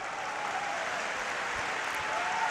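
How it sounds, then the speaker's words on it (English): A judo arena crowd at the Tokyo Grand Slam claps in a steady, broad wash of applause that holds evenly throughout, with no voices on top. "there's a really, really generous round of applause in the arena"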